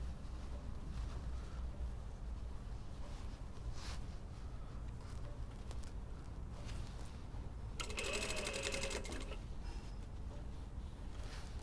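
A sewing machine stitches the side seams of a lined bomber jacket, a quiet, steady mechanical whir heard close up, with a brief louder burst of sound partway through.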